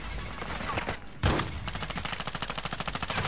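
Rapid bursts of automatic gunfire in the video game Call of Duty: Warzone, a loud close stream of evenly spaced shots with a brief pause and a sharp blast, then a steady rattling string of rounds.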